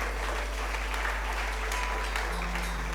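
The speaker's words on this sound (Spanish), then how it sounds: "Démosle una ofrenda de aplausos al Señor." Church congregation applauding during a service, a dense, loud, steady wash of many hands clapping close by, continuing without a break and without speech.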